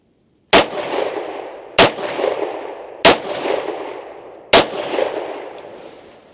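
Beretta M9A1 pistol fired at outdoor winter target practice: four sharp, loud shots spaced about a second apart, each followed by a long echoing decay, with no talking.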